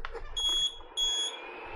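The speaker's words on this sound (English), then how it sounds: "I heard the beeping." An Anet E12 3D printer beeps as it powers on: two sustained electronic tones, each lasting about a third of a second, separated by a short pause and heard close and clear over a quiet room hum.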